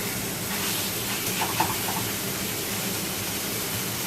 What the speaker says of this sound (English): Steak's going in.